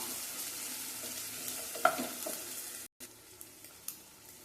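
Close, steady crackling sizzle of ginger frying in hot oil in a pan, with a few soft stirring clinks and a brief break.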